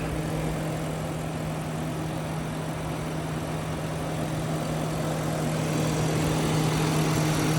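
A 2005 Lincoln Town Car Signature Series with a clean engine bay, its engine held at raised RPM in a smooth, steady hum with a slight swell toward the end.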